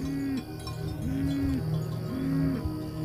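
Cattle in a Maasai village low and repeatedly, long sustained bellows in a steady rhythm, with a metallic ringing tone like cowbells carrying over the herd; close and fairly loud, with no voices.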